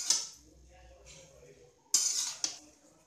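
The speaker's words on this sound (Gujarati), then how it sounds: "હવે તેને પ્રોપર મિક્સ કરી લઈશ" A spoon clinks and scrapes against a bowl while Bombay-style masala pav mixture is stirred, a few sharp metallic knocks with soft scraping between them, close and fairly quiet.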